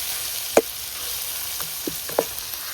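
Tomato dropped into hot oil in a pan over a wood-fired chulha while cooking dal bhati, giving a steady close sizzle and hiss with a few sharp pops and clicks and no talking.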